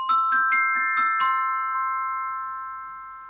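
Mallet percussion bar struck with a soft rubber mallet, about six quick ascending notes followed by a held, ringing tone that slowly fades out, clean and close with no talk.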